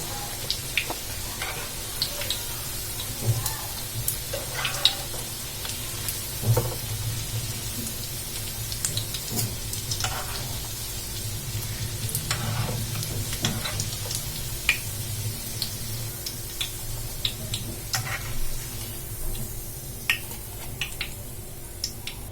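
Snacks made of chicken and bread fry in oil with a continuous low sizzle and scattered crackles, plus occasional clinks and stirring sounds, steady and close over a long stretch with no speech.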